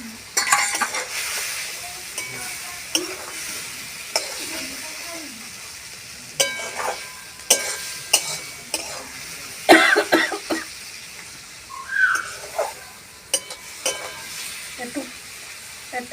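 Eggplant stirred and frying in a pan, with steady sizzle and repeated scraping, clinking strokes of a spoon against the pan, plus a cough or two, up close.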